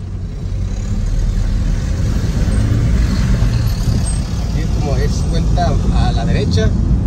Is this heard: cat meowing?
no